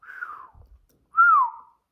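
A person whistles two short notes, the first weak and breathy, then after a pause a clearer, louder falling note, both close and unaccompanied.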